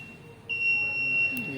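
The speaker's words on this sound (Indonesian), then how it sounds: "alarm juga berbunyi" An electronic alarm sounds after a ground fault is detected on a single-phase load short, giving a steady high-pitched continuous tone that grows louder halfway through and holds to the end.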